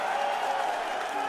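Applause from a crowd at a Sydney press conference after a UFC-style fight, a steady dense patter of clapping held at an even level throughout the brief moment, with faint crowd murmur mixed in.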